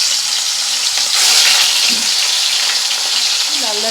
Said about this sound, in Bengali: লাল লাল করে মাছগুলো ভেজে নিতে হবে।